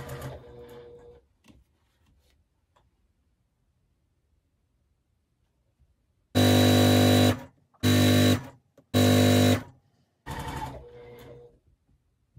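A sewing machine chain-pieces fabric strips and quilt blocks, running in four loud bursts of steady stitching separated by short pauses, after quiet handling of fabric near the start.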